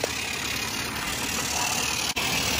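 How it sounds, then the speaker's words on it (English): A Mamod Brunel geared live steam engine runs close by at slow speed, giving a steady, continuous mechanical churn with one brief break near the end. "as a geared engine it doesn't go fast anyway"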